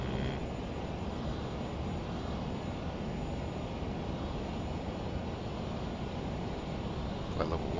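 Learjet 35A jet engines whining steadily as the aircraft descends in Microsoft Flight Simulator, a constant even drone at low level with no talking.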